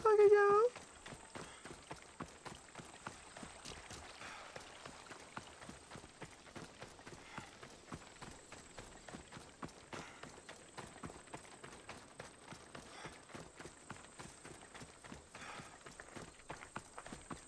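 Hooves gallop in a rapid, steady clip-clop beat through the scene, a horse in Assassin's Creed Odyssey drawing close from behind. Apart from one short higher tone at the very start, the hoofbeats carry on alone at moderate loudness.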